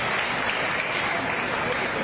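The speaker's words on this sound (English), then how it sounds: "Give them a big round of applause" A crowd at a youth fair sheep show claps in a brief, dense burst of applause, with voices talking over it.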